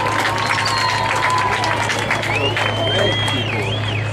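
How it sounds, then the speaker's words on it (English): Crowd in the grandstand at a West Coast dirt-track speedway applauds and cheers a race driver, a dense, continuous wash of clapping with voices mixed in and a steady engine drone underneath. "give him a round of applause"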